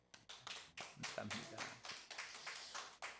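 A congregation at a worship service claps in thanks after a guest lecture. The claps come in uneven, fairly quiet bursts, and a voice speaks briefly over them.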